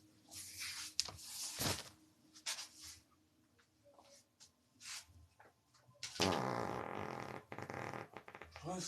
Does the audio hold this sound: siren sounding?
no